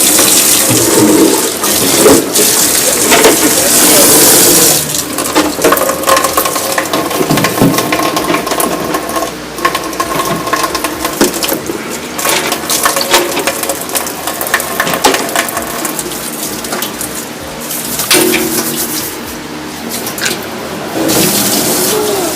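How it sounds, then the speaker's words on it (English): Compost buckets being washed with running water, a loud continuous splash and rush with clattering knocks and scraping of the buckets, mixed with mechanical rattling over a long stretch. "That's how we wash our compost buckets."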